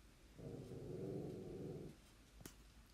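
A single low, rumbling dog vocalization lasting about a second and a half, more of a growl than sharp barks, fairly faint and heard alone, followed by a brief click.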